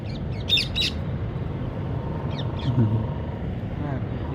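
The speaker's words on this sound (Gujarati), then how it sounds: "પોપટ રિયા રિયા બોલે છો કે મસ્ત મજાનો અવાજ આવે" A few sharp parrot squawks near the start, then more calls later over a low rumbling outdoor background in a village farm, with a voice murmuring.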